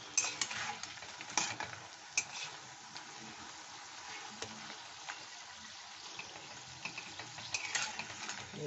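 Kathi goja dough sticks are turned and stirred in hot frying oil, giving a faint, steady sizzle broken by light scraping and clattering strokes.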